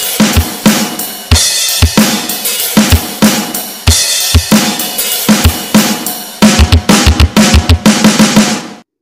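A full drum kit plays a steady rock beat for a song part, with punchy kick drums and sharp snare hits over bright cymbals, loud and continuous with no talking, ending abruptly.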